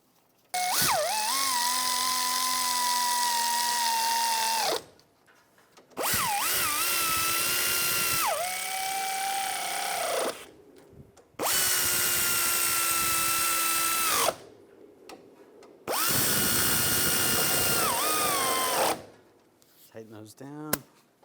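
Power tool driving the wheel hub bolts on a 2004-2009 Toyota Prius during a wheel bearing and hub replacement, running in four steady whining bursts of several seconds each, separated by short pauses, loud and close.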